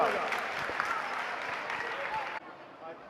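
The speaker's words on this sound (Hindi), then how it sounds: "जोरदार तालियां बजाओ।" A crowd at a religious sanskar camp in a large Jain temple in Begumganj breaks into loud, steady applause that cuts off abruptly about two-thirds through, leaving a faint tail.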